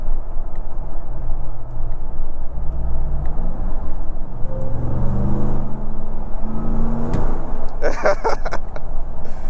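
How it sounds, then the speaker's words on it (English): A RAM 1500 TRX Havoc Edition pickup revs up with a loud, steady engine rumble and rising tonal whine from its supercharger, climbing in pitch across several seconds before a sharper burst near the end. "I just want to hear that supercharger whine."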